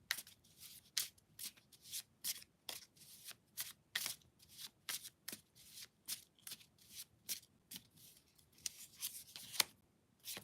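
Tarot cards being shuffled and drawn by hand, with a rapid series of crisp riffling and slapping bursts in uneven rhythm, close and fairly quiet, without talk.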